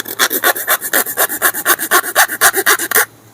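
A hand saw cuts through wood in about twenty quick, regular back-and-forth strokes, close and loud, then stops abruptly.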